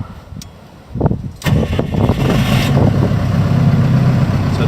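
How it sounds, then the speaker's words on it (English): AFM Genesys diesel generator starting on its automatic start sequence: a brief cranking burst, then the engine catches and settles into a steady, loud, low idle drone. "When I press the start button, an automatic start sequence is initiated and the unit starts."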